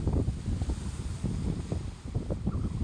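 Strong sea waves surge at a Batangas beach, a rumbling rush of surf mixed with heavy wind buffeting the microphone, no voices present.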